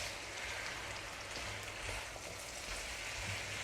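Onions stir-frying in a pan on an induction stove, a steady dense sizzle like rain on a surface, unbroken and even throughout at moderate level, with no voices.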